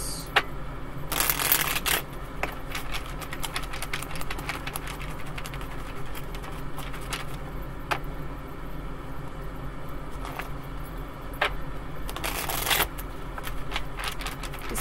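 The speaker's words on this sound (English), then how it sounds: "I'm going to shuffle them this way to try to straighten these out." A deck of tarot cards, some of them bent, shuffled by hand on a table: two louder riffling bursts stand out against a steady patter of soft card taps and slides throughout.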